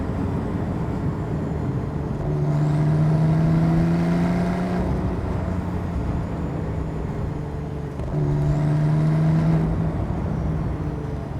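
A Porsche 991.2 Carrera GTS engine pulls in third gear around 4,000 RPM, a steady loud drone with two rising sweeps as the revs climb, heard from inside the car without talk.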